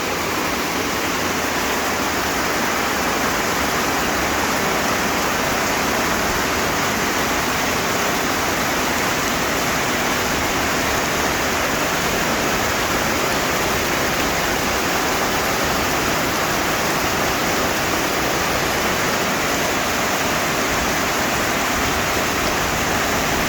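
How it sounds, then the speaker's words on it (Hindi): Steady rushing roar of a waterfall in the hills of Lonavla, a dense broadband wash of falling water that stays loud and unchanging throughout with no voices. "गीत सुनिए झरने का"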